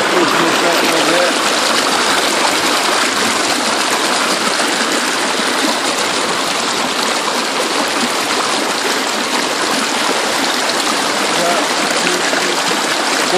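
River water rushing through a gold sluice box during a test run, a loud, steady, dense splashing wash that continues unbroken throughout.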